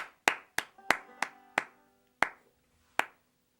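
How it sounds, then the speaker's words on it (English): A man claps slowly and unevenly for Teddy, about eight sharp, close hand claps with uneven gaps and quiet between them. "That make you feel good, me clapping for you?"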